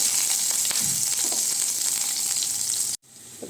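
Garlic sizzles steadily in hot vegetable oil, a loud, continuous frying hiss with small crackles, cut off abruptly near the end before faint sizzling resumes.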